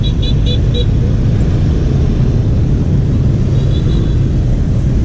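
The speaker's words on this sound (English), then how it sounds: "Cars just coming into the roundabout from all different angles, and it somehow works perfectly." Dense traffic at a busy roundabout in Saigon, Vietnam: a loud, continuous roar and rumble of engines from vehicles merging from all sides, with brief high horn-like tones near the start and again later.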